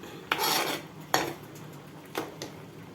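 A spoon stirs rice and lentils in a metal cooking pot, with a few distinct scraping clinks against the pot spaced about a second apart, up close, with no voices.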